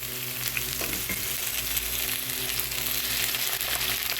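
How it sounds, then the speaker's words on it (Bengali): Ginger and garlic paste hitting browned onions in a hot pan for a prawn and spinach curry, sizzling loudly and continuously at close range, with faint stirring scrapes and no talk. "এখানে পেঁয়াজটা আমি ভালো বাদামি করে ভেজে নিয়েছি। এখন এখানে দিয়ে দেবো আদা বাটা"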